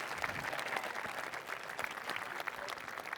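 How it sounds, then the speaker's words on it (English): Applause from the audience at a 2016 high school graduation ceremony, a faint, distant patter of many hands clapping, steady and continuous. "Can we have a nice round of applause for the Ellington Community Scholarship Association?"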